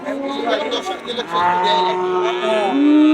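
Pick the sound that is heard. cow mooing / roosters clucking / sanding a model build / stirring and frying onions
cow mooing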